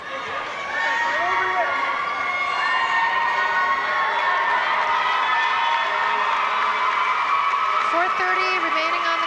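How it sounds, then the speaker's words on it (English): Tantramar Titans fans at a 1998 provincial AA high school basketball final, a gymnasium crowd cheering and shouting continuously at full volume, with a commentator's voice running underneath. "Look at some Tantramar fans in the crowd trying to boost their Titans"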